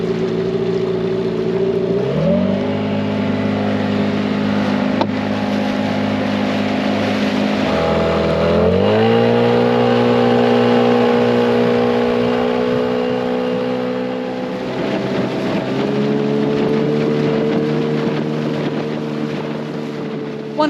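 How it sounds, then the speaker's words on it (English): A new outboard motor pushes a small dinghy at planing speed, its steady droning hum shifting pitch twice as the throttle changes, loud and close with wind buffeting the microphone throughout. "this is a good place to test out the new motor"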